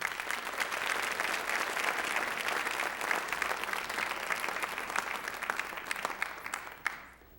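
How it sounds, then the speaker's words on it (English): At a Bollywood Bash event, an audience applauds an 11-year-old performer: a dense, steady roar of clapping that holds for several seconds, then tapers off near the end. "Give a big round of applause for Dhruv Rathod."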